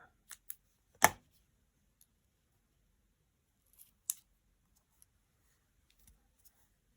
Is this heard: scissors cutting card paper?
yes